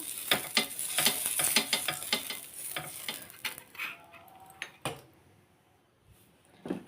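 Dosa batter hitting a hot oiled pan, with a burst of rapid scraping, clicking spreading strokes over a bright sizzle that thins out and fades toward quiet, ending with a few sharp knocks.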